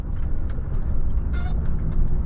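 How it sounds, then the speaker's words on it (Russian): A seat creaks briefly inside the cab of a Volvo FH 540 truck on a frozen Lena River ice crossing near Yakutsk. The short squeaky creak sits over the loud, steady rumble of the engine and road. "это сиденье так скрипнуло, что ли?"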